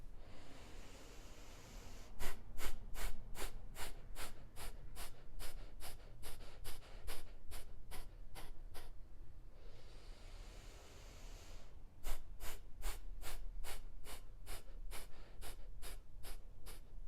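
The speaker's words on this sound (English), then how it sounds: "we're going to inhale for breath of fire" Breath of fire yoga breathing during a sweat-focused session: two long runs of rapid, evenly spaced sharp nasal exhalations, about two per second, with a short pause between runs, close and fairly quiet.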